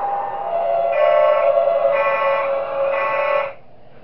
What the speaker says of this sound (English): I can only use the alarm 3 times